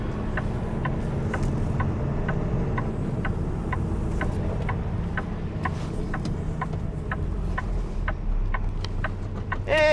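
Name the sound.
gas delivery truck pulling in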